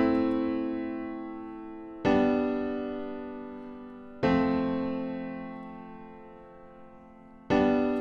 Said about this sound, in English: So now we get a nice cheesy sad chord progression.